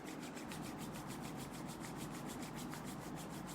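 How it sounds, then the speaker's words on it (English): Palms rubbed briskly together during a meditation practice, a quiet, steady back-and-forth swishing of skin on skin with an even rhythm, heard close and alone. "rubbing our palms together"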